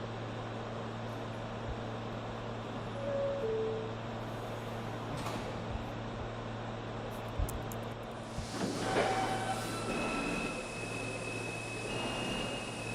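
A New York D express subway train runs in a snowy setting, a steady low rumble and hum filling the car, with a brief clunk near the middle and brighter rattling and screeching toward the end.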